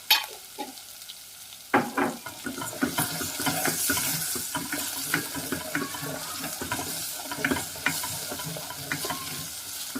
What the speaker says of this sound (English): And then I'm going to go in with my cumin seeds.